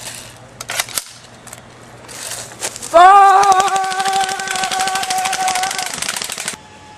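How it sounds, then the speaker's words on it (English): A D-Boy SCAR airsoft gun fires fully automatic in one long, loud, rapid burst of buzzing mechanical shots lasting several seconds, preceded by a few scattered clicks and handling sounds. "now as we're done with the firing review, just time for fully automatic fun"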